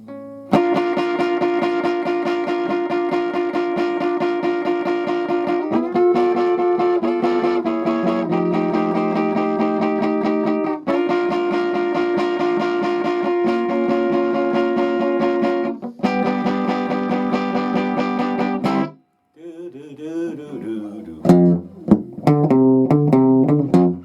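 Distorted electric guitar plays the bridge of a song, a steady riff of sustained chords for most of the passage, then shifts to a sparser, cleaner melodic phrase near the end.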